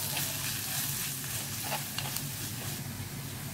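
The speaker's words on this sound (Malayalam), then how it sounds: "നല്ലതായിട്ടൊന്ന് ഇതിന്റെ പച്ച മണം മാറി വരണം വരെ ഒന്ന് വഴറ്റി കൊടുക്കാം." Chili powder sautés in hot oil in a pan for a Kerala prawn roast, giving a steady close sizzle with faint stirring scrapes and no talking.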